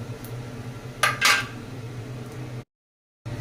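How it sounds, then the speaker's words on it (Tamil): Roasted thara pasalai greens are moved to another plate, with a couple of sharp clinks and scrapes of metal utensils on dishware over a quiet kitchen background, then a brief drop to silence. "இப்போ இதை வந்து வேறு தட்டில் மாற்றிக்கலாம்."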